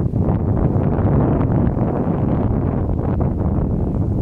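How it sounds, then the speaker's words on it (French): A steady low rumbling churn of a sailboat's propeller turning at about 6 knots, loud and close, with a constant whooshing wash and some wind buffeting. "Alors on entend l'hélice tourner"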